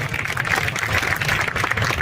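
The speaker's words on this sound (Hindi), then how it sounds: "तो उनके लिए एक बार जोरदार ताली बजा" Audience applause at an All India Mushaira in Lakhimpur Kheri, a steady dense wash of many hands clapping together, filling the whole stretch at even loudness with a low murmur beneath.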